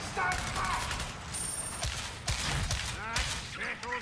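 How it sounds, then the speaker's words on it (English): Rapid lasgun fire in the Warhammer 40K game Darktide, a loud dense stream of energy shots with chaotic combat noise, mixed with talking throughout. "this las gun is stupid good"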